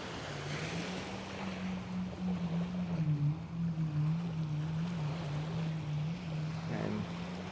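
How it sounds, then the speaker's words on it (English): Jet skis run out on the water off a Coney Island beach in New York City at sunset, their engines a distant, wavering hum beneath wind and surf. "There's a bunch of jet skis out in the water."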